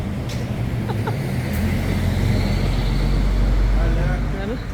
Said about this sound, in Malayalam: ടാക്സിം സ്ക്വയറിലേക്കുള്ള ബസ്സാണ് ഈ കാണുന്നത്